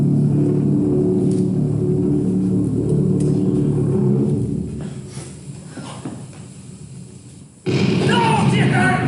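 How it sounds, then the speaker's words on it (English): Bombs exploding during an air raid, heard as a loud, continuous low rumble with deep booming bursts that thin out midway, then surge back abruptly near the end. "Now they send bombs."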